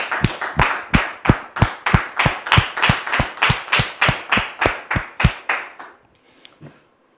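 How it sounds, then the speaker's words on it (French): Studio audience of a French-language talk show clapping to welcome a guest, sharp, evenly spaced claps in a steady unison rhythm, about sixteen beats, stopping abruptly near the end. "On le reçoit, s'il vous plaît, avec vos applaudissements."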